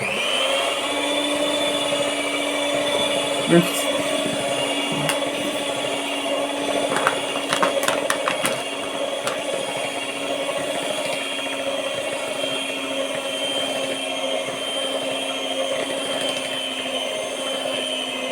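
A kitchen robot mixer kneads pizza dough, whirring steadily with a constant motorized hum, occasional clunks and knocks breaking through as it works, running on without pause.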